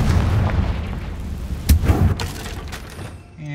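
A Confringo fire spell cast in Hogwarts Legacy, bursting with a sharp, loud boom followed by a short rumbling blast over a low background ambience.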